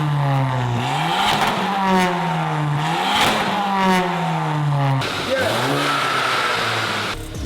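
A VW Golf GTI MK7.5 with its stock exhaust revs repeatedly in close, loud blips, the engine pitch climbing and falling in a steady rhythm, with a voice talking over it.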